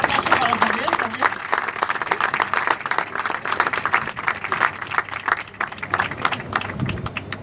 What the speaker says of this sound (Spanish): Me gustaría un aplauso para Javier también